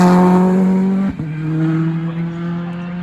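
A 2-litre turbo rally car on a stage of the East Riding Stages Rally, a loud, close, steady engine note that dips abruptly at a gear change before settling into a slightly lower drone.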